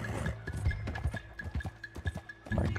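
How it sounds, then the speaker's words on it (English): Horse hooves clip-clopping in the video game Red Dead Redemption 2, a quiet rhythmic run of hoofbeats at close range, playing alone without talk. "I take the horse"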